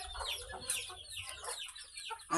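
Chickens cluck in short, busy bursts near at hand on a farm with growing chicks and stags, the calls overlapping at a moderate level.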